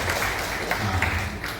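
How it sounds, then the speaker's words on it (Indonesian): Clapping from the congregation at the opening ceremony of a regional church synod session at GKI Marthen Luther, Klasis Sentani; short, dense burst of hands clapping from a crowd, steady and fairly loud throughout. "Kita tepuk tangan."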